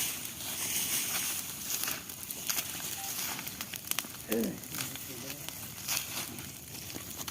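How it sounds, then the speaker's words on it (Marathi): Wood fire burning around a pot of eggs cooked outdoors in Konkan popti style, giving a steady broadband crackle and hiss with scattered sharp snaps throughout, and a brief faint voice midway. "त्यासाठी अशी आग पेटू जाते"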